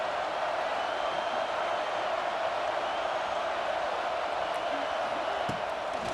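Stadium crowd in the College Football 26 video game: a steady, dense roar of massed voices holds at an even level throughout, with faint thuds and a murmur of speech beneath.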